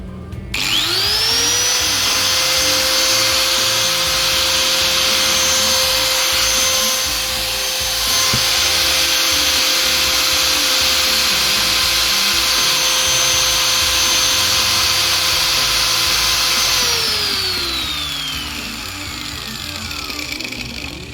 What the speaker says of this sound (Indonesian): Kita untuk menyalakan gerinda yang 600 watt ya teman-teman